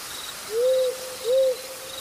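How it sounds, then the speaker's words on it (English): An owl hoots twice at night in a backyard, two short, low, evenly spaced calls over a steady bed of chirring crickets. "It was an owl."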